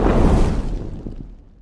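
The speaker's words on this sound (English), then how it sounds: "fire whoosh" Fire whoosh effect: a deep, roaring burst of flame that swells at once and then fades out slowly over under two seconds, loud and close with no one speaking.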